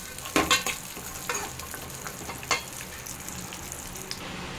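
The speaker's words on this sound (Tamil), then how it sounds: "முந்திரி திராட்சைலாம் நல்லா பொன்னிறமா வறுத்தாச்சு" Cashews and raisins fry until golden in a pan with a soft, steady sizzle, and a few sharp scraping stirs are heard early on before the sound settles into a quieter crackle.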